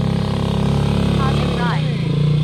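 A motorcycle engine labours up a steep climb at Clark Field, Pampanga, a steady close droning hum with a brief rising pitch, while someone talks over it.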